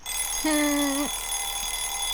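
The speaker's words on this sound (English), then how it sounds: "I was woken up by the noisy alarm clock." An alarm clock in the video game Nameless gives one loud electronic buzzing tone lasting about half a second, a steady harmonic beep that ends with a falling pitch, over a faint background hum.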